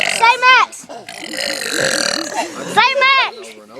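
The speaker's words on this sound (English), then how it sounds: "Do a burping contest." A boy lets out a long, loud, rasping burp during a burping contest, close to the microphone, framed by short bursts of young voices talking before and after.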